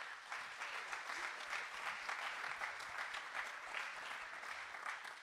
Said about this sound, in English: Give them one more hand of applause.